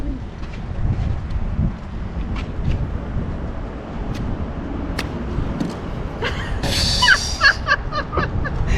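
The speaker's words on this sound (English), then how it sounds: "It's too windy." Gusty wind buffets the microphone in a constant low roar, with faint scattered clicks and a brief higher rustle near the end.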